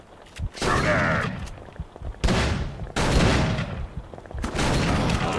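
Gunfire in the Call of Cthulhu video game comes as a few loud, close blasts with long noisy tails, spaced a second or two apart, with no voices.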